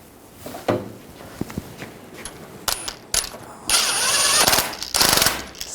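A nut is run down onto the tie rod stud of a 2007-2013 Chevrolet Silverado 1500 with a few sparse metallic clicks and then two loud, rattling mechanical bursts at close range.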